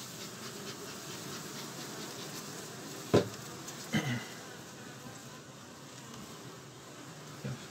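Honeybees drone in a steady, soft buzz around an opened hive with brood frames, with a couple of brief scrapes and knocks from handling the frames.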